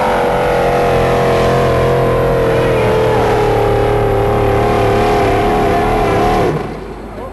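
A pulling tractor's engine at the Briagalong tractor pull revs hard and close, a loud, sustained harmonic roar holding a fairly even pitch for several seconds before cutting away abruptly near the end.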